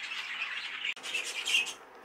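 Caged show budgerigars, including an opaline cinnamon sky blue cock bird, give shrill squawks and chatter close by. The calls are continuous and overlapping, with a brief click partway through and no talking.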